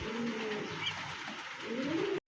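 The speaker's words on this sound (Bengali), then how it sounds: "এই মুহূর্তে দেখতে পাচ্ছেন এক জোড়া পলিশ কিং কবুতর" A pair of Polish King pigeons coo softly nearby, rolling low calls rising and falling over a hissy background before the sound cuts off abruptly.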